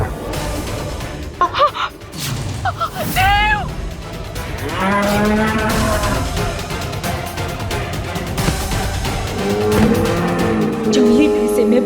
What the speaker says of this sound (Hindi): जंगली भैंसे में बहुत ताकत होती है